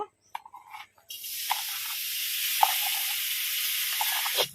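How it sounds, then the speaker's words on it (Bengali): A mixture of sugar, coconut and kheer hits a hot wok for bakul pitha: a few faint clicks, then a sudden loud, steady sizzling hiss that carries on close by with no voices. "কড়াইতে আমি চিনি নারকেল আর এবং ক্ষীর একসঙ্গে মেখে রেখেছিলাম কড়াইতে আমি ঢেলে দেব"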